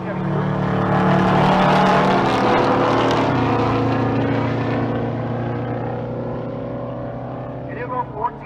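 Several drag race cars rev and launch down a strip at a race week event in Pueblo, among them a 1948 Chevy Cruze, with a loud, sustained engine roar that builds and then slowly fades, while an announcer talks over it.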